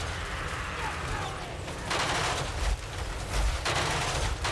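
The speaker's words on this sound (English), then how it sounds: "The grenade launcher, the steam cannon, and the regular cannon all at once." An Empire steam tank's grenade launcher, steam cannon and regular cannon firing in a Total War: Warhammer 3 battle, rolling volleys with heavy low booms, while a voice talks.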